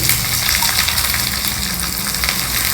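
Chana dal, ground nuts, ginger and a green chili fry in hot oil for a festive South Indian meal, giving a loud, dense, steady crackling sizzle close up, unbroken and without voices.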